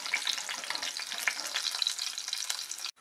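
Green beans frying in hot oil for a masala vegetable khichdi, a steady, close, crackling sizzle that runs throughout and cuts off abruptly just before the end.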